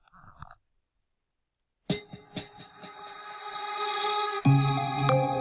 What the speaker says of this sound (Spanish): La duplicamos, a este le ponemos un delay